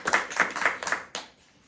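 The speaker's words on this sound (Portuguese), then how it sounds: "E quem gostou dela pode bater palmas." A small audience claps after a storytelling session, a short burst of applause with rhythmic hand claps that fades out within about a second and a half.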